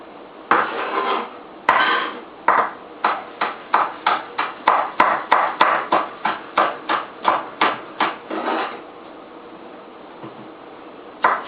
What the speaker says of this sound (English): I'm just going to cut up my peppers